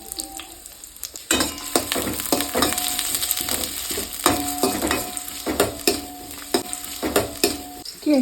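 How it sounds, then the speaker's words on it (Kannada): Onion fries in a pan over a loud crackling sizzle, with repeated scraping and clinking strokes of a spatula in an uneven rhythm, close up and without speech. "ಈಗ ಸ್ವಲ್ಪ ನೀರುಳ್ಳಿ ಹಾಕ್ತಾ ಇದ್ದೀನಿ ಈರುಳ್ಳಿ ಚೆನ್ನಾಗಿ ಕಾಯ್ಬೇಕಾಯ್ತಾ"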